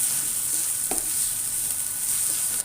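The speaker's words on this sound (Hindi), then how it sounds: "अब मैं इसके अंदर एक मीडियम साइज की प्याज डाल दूँगी और इसे फ्राई करूँगी" Medium onion fries in a pan for garlicky palak, a steady high hiss with one short stir, cutting off at the end.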